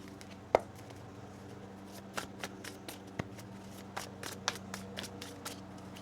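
A tarot deck is shuffled by hand, giving a series of crisp card snaps and riffles, irregular but frequent, close and fairly quiet against a low hum.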